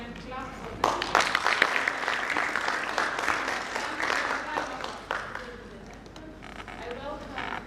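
Audience applause at a USAID Western Kenya sanitation project hackathon, a sustained round of clapping from a crowd at moderate distance, swelling early then tapering off, with some talk mixed in.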